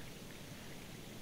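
Heavy rain in the video game Jack Is Missing, a dense, steady hiss of falling water that fills the whole moment with no voices over it.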